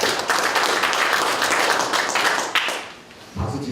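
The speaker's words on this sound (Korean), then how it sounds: "박수 한번 크게 한번 쳐주세요" Loud, dense applause from a seminar audience fills the room for about three seconds, then drops off briefly before a short burst of renewed clapping.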